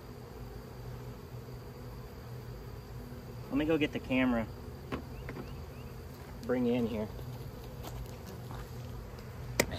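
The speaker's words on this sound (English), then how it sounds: "Man, bees." Honeybees crowd around their queen as they try to ball her. A steady low insect drone runs throughout, with a voice talking over it in two short bursts.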